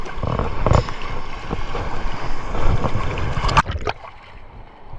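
Big waves rolling against a small fishing boat at sea during ultralight fishing, a loud, surging roar of water and wind that swells and breaks, then drops off into a quieter lull.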